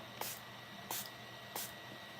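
Three quick, soft spritzes from a spray bottle, evenly spaced, close up against quiet background.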